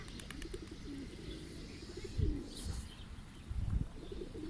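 Racing pigeons coo in low, throaty bursts with a few thin chirps, the calls close by and rising and falling over a steady outdoor background.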